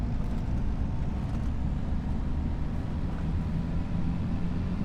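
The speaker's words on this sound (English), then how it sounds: "I completely forgot how good this tractor goes, how smooth the drive is, and how quiet it is." Steady low rumble of a Zetor tractor driving in a farm restoration video game, an even, close engine hum without variation and no voices over it.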